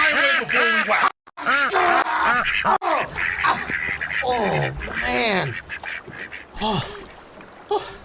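Ducks quack repeatedly at a pond where bread is thrown into the water, loud nasal calls coming in irregular bursts, close by and overlapping, with a voice speaking briefly among them.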